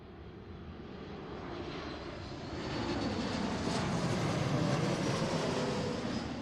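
Alaska Airlines jet landing at Seattle airport, a steady, loud broadband engine roar that swells midway and holds, with no voices.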